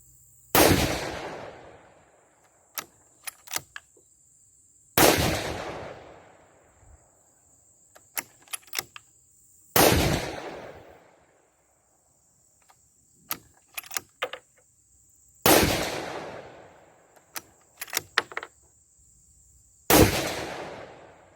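A 6.5 Creedmoor rifle firing Hornady 140 SST handloads with H4350 powder lets off five loud, sharp shots about five seconds apart, each ringing out briefly. Faint metallic clicks of the bolt cycling fill the gaps between shots.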